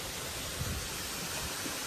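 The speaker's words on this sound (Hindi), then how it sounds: "बीच बीच में छोटे मोटे बहुत झरने हैं जो आके नदी में गिरते हैं।" Small waterfalls pour into a rocky river near Dawki in Meghalaya, making a constant, even rush of water with nothing else standing out.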